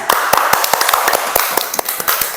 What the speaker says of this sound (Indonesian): Bagus, tepuk tangan temannya.